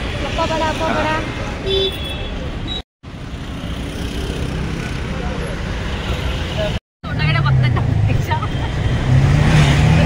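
A shared auto rickshaw rides through busy Mumbai traffic with a constant rumbling engine and road noise, passing vehicles and faint horn toots, while people talk nearby; the recording cuts out briefly twice.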